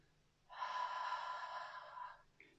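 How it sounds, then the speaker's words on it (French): One long, steady breath pushed out through the mouth during a Pilates exercise, close and moderately loud, lasting under two seconds and trailing off into a faint sniff. "Inspirez, soufflez."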